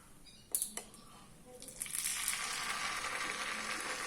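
Oil spread on a hot dosa griddle for cooking palappam: a few sharp clicks, then a sizzle swells from about halfway and continues steadily, fairly quiet and close.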